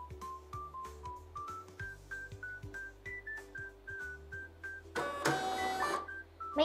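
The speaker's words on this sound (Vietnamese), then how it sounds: "Máy in rất là nhanh luôn đó mọi người." A printer prints a GHTK shipping order sent from an iPhone. Steady rhythmic mechanical ticks and short tonal beeps repeat at an even pace, then a louder burst of whirring feed noise comes near the end. The sound is close and fairly quiet, with no talking.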